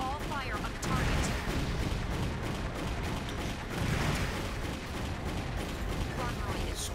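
Sustained heavy weapons fire in the mech combat game Armored Core 4: dense, continuous blasts and explosions with rumbling impacts, loud throughout and swelling in two heavier surges.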